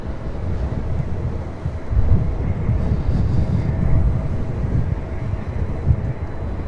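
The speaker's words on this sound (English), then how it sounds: "That is United Airlines Flight 1412 coming from Chicago O'Hare in a" A United Airlines Boeing 737-900ER arriving at Los Angeles International Airport from Chicago O'Hare, a broad low engine roar heard from a distance over wind buffeting the microphone, steady and rumbling.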